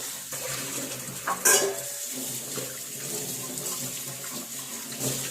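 Dishes are washed in a kitchen sink under a running tap, with a continuous splash of water and occasional clinks and knocks of pots and plates, close and fairly loud.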